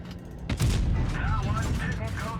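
A tank's cannon round glancing off an enemy tank in World of Tanks Blitz: one sharp, loud metallic blast that rings out briefly, then a lingering mechanical rumble with faint game chatter over it.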